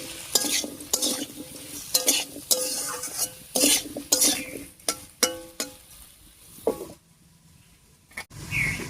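Cubes of squash and potato with turmeric get stirred in a sizzling pan, a run of close, irregular spatula scrapes and clinks over a soft frying hiss, pausing briefly near the end before one more scrape.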